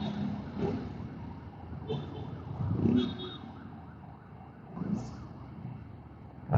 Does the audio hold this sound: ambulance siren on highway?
yes